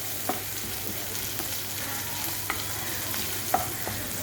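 Vegetables deep-frying fully submerged in oil, a steady low sizzle and bubbling with a few faint utensil clicks, close and fairly quiet with no talking.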